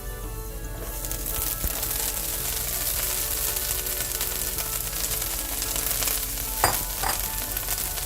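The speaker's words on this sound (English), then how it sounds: "So when your potatoes are almost done, add the chopped kale." Chopped kale goes into a pan of potatoes already sizzling, making a steady close frying hiss with stirring and scraping, plus a couple of sharp clanks near the end; no one talks.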